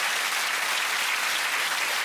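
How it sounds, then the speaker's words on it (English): Loud, close audience applause rings out at a comedy show in honor of a 92-year-old audience member, a dense, uniform burst of clapping with no voices over it. "Round of applause."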